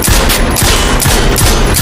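Rapid bursts of gunfire at a shooting class, loud and continuous with repeated sharp reports layered over a dense, noisy background throughout.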